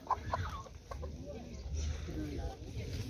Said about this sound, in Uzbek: Ha, tug'ayotgan tovuqlar.